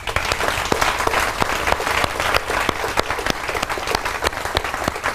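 A large indoor audience claps steadily in welcome for first-time guests at a Forever Living Products business opportunity meeting, a dense sustained round of applause filling the whole stretch with no voice over it.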